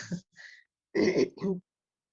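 A few short, dry throat-clearing coughs from someone with COVID come in two brief bursts separated by silence, close to the listener.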